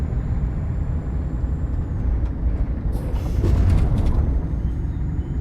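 A Scania truck in a trucking video game lets out a short hissing air-brake release over a low, steady engine rumble.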